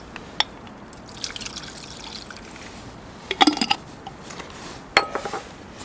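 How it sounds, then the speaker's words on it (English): Car wheel bearings from a Reliant Robin being washed in white spirit, with quiet liquid trickles and drips broken by a few sharp metallic clinks and splashes close by. "I'm just going to give these bearings a wash out"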